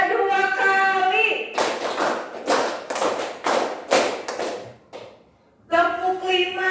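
Pupils in a classroom clap a counted rhythm pattern together on a teacher's cue: two groups of sharp, loud, evenly spaced claps, set between stretches of the teacher talking.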